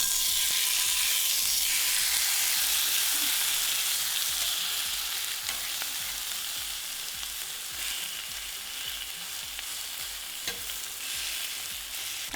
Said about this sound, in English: let's add in our steak